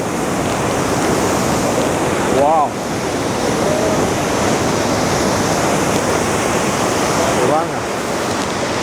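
Roaring falling water at the Cave of the Winds, Niagara Falls, a loud, steady wash close by, with brief voices calling out over it.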